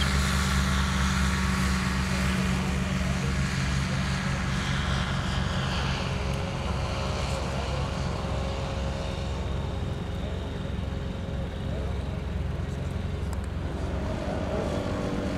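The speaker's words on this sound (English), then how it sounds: "Alina taxis for takeoff in a clockwise flight pattern" Aerolite 103 ultralight aircraft taxiing for takeoff at Oshkosh 2023, a steady close engine drone with a low hum and broadband wind noise, holding level throughout with no voices.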